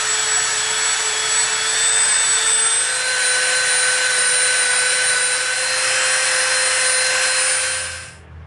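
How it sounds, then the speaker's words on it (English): Dremel rotary tool rounding the edges of EVA foam: a steady high-pitched motor whine held for several seconds, loud and close, then winding down at the end. "we're going to hit these edges with the Dremel just to slightly round"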